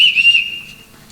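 A single shrill whistle blast sounds loudly in a house, summoning the household staff, with a steady tone that fades after about half a second.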